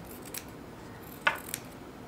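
Scissors trimming excess fabric from a dress side seam give one clear close snip, with a fainter second cut just after it, over a quiet room hum.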